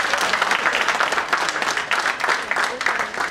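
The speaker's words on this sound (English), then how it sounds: "Can we have a huge round of applause?" Loud applause from an aviculture event audience fills the hall, dense clapping continuing steadily throughout.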